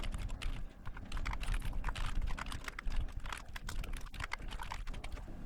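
Fingers type a program on a computer keyboard in a steady stream of close, crisp key clicks with irregular rhythm, continuing throughout with no talking.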